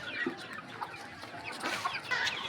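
A growing broiler chicken on a small farm gives short, scattered clucks and soft squawks, close by over faint background noise.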